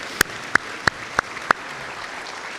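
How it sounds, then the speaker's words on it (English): A handful of sharp, evenly spaced claps ring out, about five, in a sparse, quiet hall before trailing into faint room noise. "So let's give them a round of applause just to celebrate their commitment."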